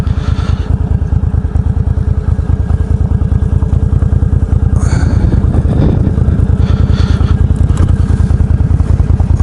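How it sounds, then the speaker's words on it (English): Motorcycle engine pulling steadily up a hill, a dense rapid exhaust pulse running loud and close for the whole stretch, with wind rush and a brief rise in revs midway. "It's a lot easier climbing this hill on a motorcycle than it is in a car."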